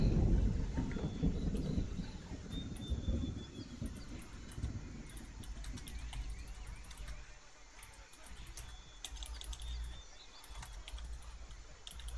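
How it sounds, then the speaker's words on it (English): Low rumbling thunder in a game, loud at first and then fading to a softer sustained roll, with faint clicks and small sounds over it. "It's fucking thunder."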